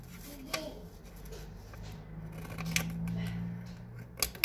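Scissors snip paper while a paper doll cabinet is being made, a few soft, close cuts and rustles at a quiet level, with no talking.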